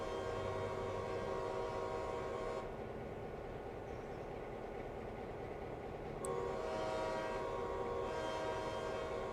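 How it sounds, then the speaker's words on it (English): Steam locomotive in the Railroader game on the Kettle Valley line, a continuous rhythmic chugging with a steady low rumble that drops back briefly and then picks up again, heard alone. "It's just me or the chugging sound skipping."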